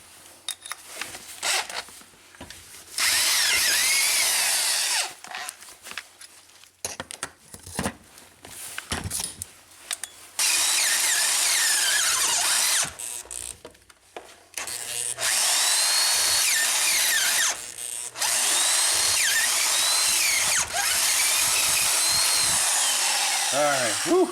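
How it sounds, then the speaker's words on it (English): A power drill whines in several long bursts, separated by short pauses and clattering handling noises, grinding through aluminum up close on a Nissan Xterra. "They're aluminum, so they drill pretty easy"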